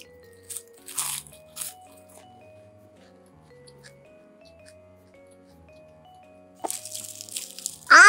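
Several crisp crunching bites into a plain, flaky, fried-crisp pastry, close and loud, with quiet chewing between them and a sharper burst of crunch near the end.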